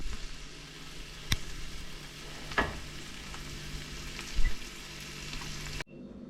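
Tomatoes frying in a pan for Filipino beef caldereta, a steady soft sizzle throughout with a few sharp clinks and scrapes of stirring, close and fairly quiet, then cutting off abruptly.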